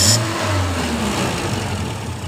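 A CNG-converted car engine runs steadily at close range after a reducer adjustment, a continuous low rumble with a brief higher whine at the start and no talking.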